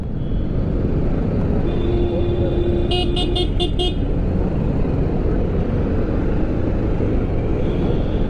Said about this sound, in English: this is a lot of traffic and I have to face it